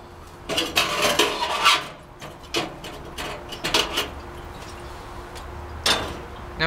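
Metal parts of a Coleman three-burner liquid fuel stove clank and scrape as the fuel tank and grate are pulled off, with several clustered rattles early on, a lull, then a final clank.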